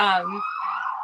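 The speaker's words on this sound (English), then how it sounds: "Sorry about the sirens." Wailing emergency vehicle siren outdoors with a sweeping tone, loud at first then continuing steadily, brief and heard alone.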